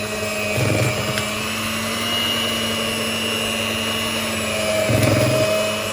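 An electric hand mixer beating chocolate cake batter in a bowl at high speed, a loud steady motor whine running throughout with two brief louder surges where the beaters dig in, close by.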